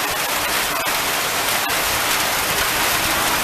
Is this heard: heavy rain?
yes